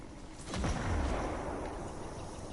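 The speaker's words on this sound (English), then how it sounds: "Did that ship just explode?" A ship explodes in the video game Warframe: a muffled, low rumbling explosion swells and lingers as a dull boom, with no voices present.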